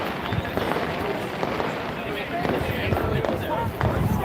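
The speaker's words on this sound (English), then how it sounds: "And the fireworks are still continuing." Scattered firework pops and cracks sound across a busy band parade in Magherafelt, repeated sharp bursts mixed into constant crowd noise and nearby chatter.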